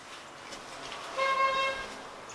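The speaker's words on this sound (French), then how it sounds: "Donc il klaxonne." A car horn sounds once from a distance, a short tonal honk lasting about half a second over faint background noise, with no talk.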